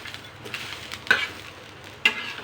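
Peanuts, garlic and green chillies dry-roasting in a pan for a spicy Maharashtrian chilli kharda, a faint steady crackle broken by a few sharp stirring scrapes, with no one talking.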